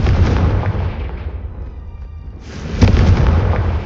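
A Confringo blast spell cast in the game Hogwarts Legacy, a loud rumbling explosive burst that fades into a low hiss, followed by a second sharp boom and rolling roar near the end.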